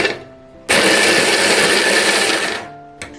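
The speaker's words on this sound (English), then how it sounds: "Now I'll grind them roughly." A blender roughly grinds coriander leaves, salt and chillies for thecha, a loud steady whirring burst of about two seconds that starts abruptly and cuts off, followed by a brief restart.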